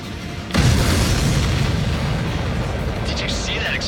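A supply ship explodes in the combat flight game Ace Combat 7 with a sudden, loud, close blast that rolls into a sustained roaring rumble. Faint higher tones flicker near the end.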